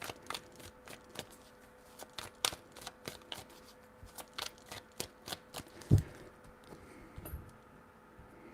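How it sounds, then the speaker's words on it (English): Tarot cards are shuffled close up in quick, irregular riffles and slaps over several seconds, with one louder thump near the middle and no voices. "3 shuffles."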